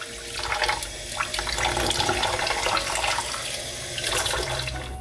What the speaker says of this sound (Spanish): le estamos echando agua fría y lo vamos a colar